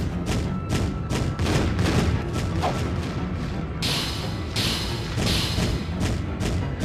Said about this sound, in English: Are his bombs hurting his guys?